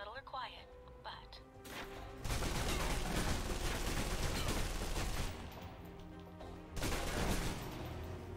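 Submachine gun fire from the video game Alpha Protocol, loud sustained bursts filling close quarters, with a pause partway before another loud burst, with speech faintly present.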